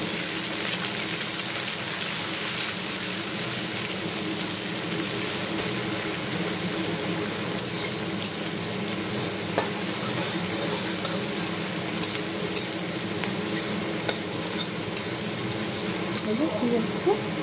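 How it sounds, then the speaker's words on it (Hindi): Chopped onions fry in a pan with a dense, continuous sizzle and scattered small crackles and pops, close and fairly loud throughout, with no speech. "पियाज को भाजवा"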